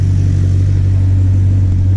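Steady, loud low drone of an Audi R8 idling on its freshly installed aftermarket exhaust, heard up close, constant and alone without voices.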